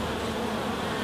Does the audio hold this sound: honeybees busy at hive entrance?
yes